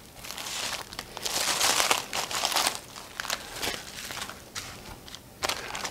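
Packaging from a Texas pen inlay kit crinkles and rustles up close, in bursts of crumpling plastic and paper handled continuously over several seconds.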